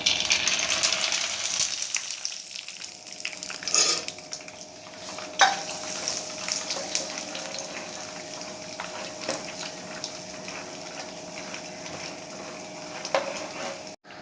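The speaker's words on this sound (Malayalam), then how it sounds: "ഇനി നമ്മുടെ ഓയിൽ ചൂടായതിലേക്ക് നമുക്കിനി നമ്മുടെ കപ്പലണ്ടി ഒന്ന് വറുത്ത് കോരാം" Peanuts fry in hot oil for a homemade mixture snack, a steady close sizzle and bubbling with occasional clinks of a ladle or spoon stirring, and no voices.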